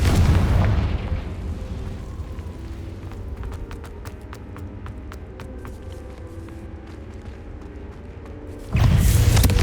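Confringo blasting spell explosions in the Hogwarts Legacy video game: a loud booming burst opens, then scattered crackling ticks over a rumbling bed, and another heavy blast hits at the end.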